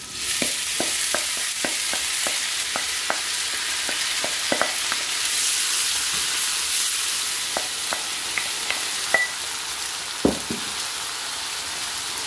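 Mixed vegetables for rice pilaf sizzling in a hot pan, a steady loud hiss throughout with scattered crackles and pops, and no talking over it.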